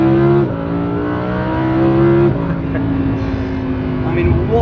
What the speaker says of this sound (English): what a sound. Naturally aspirated V10